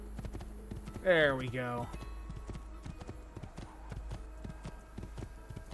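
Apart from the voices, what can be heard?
horse hooves clip-clopping in the video game Assassin's Creed 2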